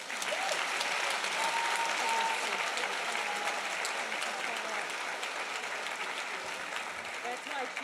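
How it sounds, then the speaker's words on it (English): Audience applause at a school superintendent's honors night, a steady wash of many hands clapping that holds evenly for the whole stretch, moderately distant, with faint voices and a few whistles in the crowd. "give her a resounding applause"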